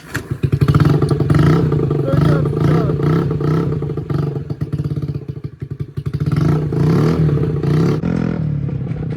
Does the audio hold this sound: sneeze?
no